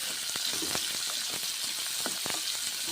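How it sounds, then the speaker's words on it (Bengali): Onion bori frying in hot oil, a steady bright sizzle peppered with frequent sharp crackles and pops, close and continuous throughout with no talking. "পেঁয়াজ বড়ি গরম তেলের সঙ্গে ভেজে নিচ্ছি"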